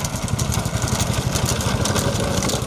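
Several motorbike engines droning and revving together close by at a bullock cart race, a dense continuous rumble with rapid pulsing, with no voices over it.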